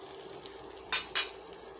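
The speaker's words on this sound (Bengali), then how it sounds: "এই যে আমি এখন পেঁয়াজ, কাঁচামরিচ আর রসুন দিয়ে বাগার দিব" A pot of onion, green chili and garlic sizzles steadily as they fry for tempering. Two sharp scraping clinks of a spoon against the pot stand out above the frying, with no voices.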